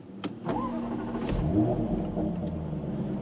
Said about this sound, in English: So foot on the brake, start button,